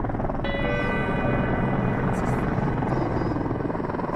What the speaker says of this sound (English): It's 24 hours before we see our first helicopter.